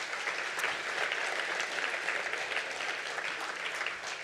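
Audience applause at an awards event, dense, steady clapping from a large crowd sustained for several seconds.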